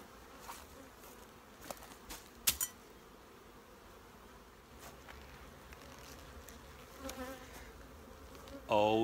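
Agitated honey bees buzz during a honey harvest, a continuous low drone of many insects close by with a few louder passes and knocks near the listener, faint overall.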